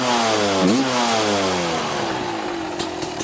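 Kawasaki KX 250 dirt bike engine revving loudly and close, with a sharp throttle blip and pitch swing early on, then settling into a falling, steady drone as the revs drop back.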